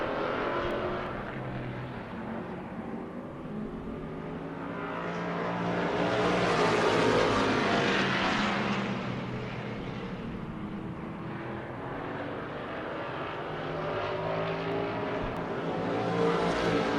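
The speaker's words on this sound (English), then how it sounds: "4 cars going 25 laps in the super stock division" Four super stock race cars circling a short oval bullring in Las Vegas, engines droning steadily with a swelling roar as the pack passes close, then fading back before building again.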